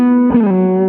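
A sustained electric guitar chord rings out through an EP Booster pedal with a slightly driven, boosted tone, then a new note is struck and sustains cleanly with a warm, full sound.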